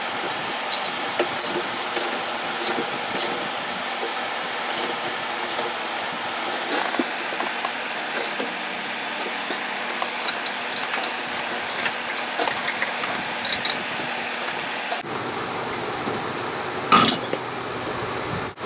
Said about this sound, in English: I have my 7/8 socket that fits on our puller, and what I'm going to do is tighten that down